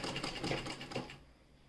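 A sewing machine stitches thread piping into a neck design, a brief steady rapid whir for about a second before fading to quiet.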